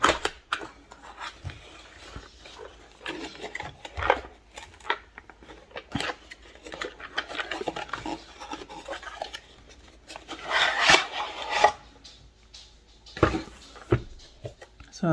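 Crinkling, rustling and scraping of a Sennelier La Petite Aquarelle 24 half-pan watercolor set's packaging being opened by hand, with intermittent tearing and tapping sounds, close and uneven.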